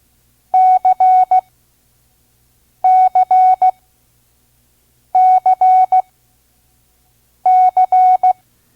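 Morse code letter C keyed as a clear, steady beep tone for a vintage ARRL course at 5 words per minute, sent four times with even pauses, each dah-dit-dah-dit pattern loud and alone.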